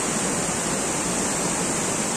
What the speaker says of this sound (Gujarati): ખાલી એનું પાણીની નદી તો જોવો તમે